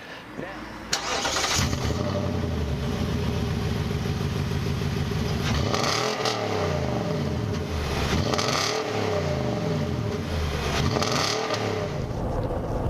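A Nissan Titan pickup truck cruising around 45 mph, a startup burst followed by a loud engine drone with rising and falling harmonic sweeps as revs change, someone talking over it.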